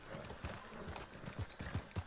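Horse hooves clip-clop in the video game Red Dead Redemption 2, a steady rhythmic series of muffled thuds over a dense background of game noise, fairly faint.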